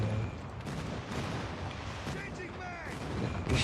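Rapid gunfire and artillery-like booms sound in a Call of Duty quick-match shootout. The shots are dense and overlapping, with bursts and a louder blast near the end.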